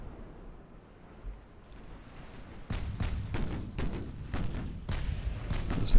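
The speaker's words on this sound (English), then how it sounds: "Looks like my secondary guns are firing over here on this battlecruiser. Main guns firing over here." Main and secondary guns of a Kongo battlecruiser fire in a naval battle in Ultimate Admiral: Dreadnoughts, a string of heavy booming shots arriving in quick irregular succession over a low rumble of wind and sea.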